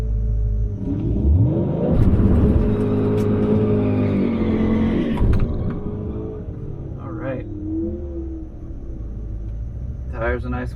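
A drag racing car at the drag strip, lined up against a slightly modified Camaro SS, rumbling and revving loudly nearby, rising in pitch as it accelerates and then easing off, with someone talking over it.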